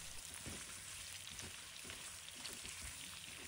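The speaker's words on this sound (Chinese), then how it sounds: "随后把大蒜放入锅中，与五花肉一同翻炒。" Pork belly and garlic stir-fried in a wok, a soft, steady sizzle of hot oil with faint crackles and scraping stirs, quiet and close with no talking.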